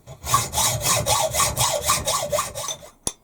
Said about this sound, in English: But in the meantime, back to the saw.